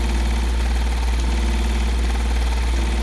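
A heavy-duty White 431 sewing machine runs flat out, a loud, dense, continuous mechanical hum and rapid needle chatter close up, with no talking.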